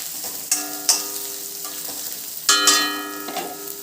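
Half an onion frying in a pan for a lunch-box rice dish, with steady oil sizzle broken by a few sharp stirring clacks and scrapes of a utensil against the pan, close and fairly loud.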